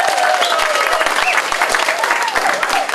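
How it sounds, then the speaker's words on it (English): Marchers gathered after a Bay View night walk break into loud, close applause, a thick wash of clapping hands carrying through the whole moment, with a voice faintly audible underneath. "I want everybody to give yourself a great applause and hand"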